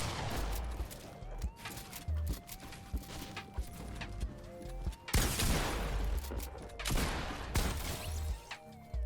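Gunfire crackles in a video game fight, with rapid bursts and sharp volleys clustered in the second half, fairly quiet and mixed with scuffling game effects.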